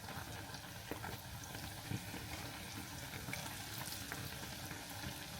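Bread fries in a pan with a steady, close crackling sizzle and scattered faint pops, continuous and alone without speech.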